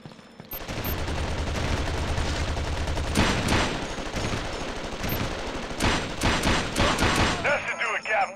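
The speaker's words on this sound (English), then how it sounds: "We've been made, and we're taking heavy fire." Heavy gunfire in the video game Ghost Recon Advanced Warfighter crackles in dense automatic bursts, loud and continuous, with sharper shots and impacts toward the end and voices mixed in.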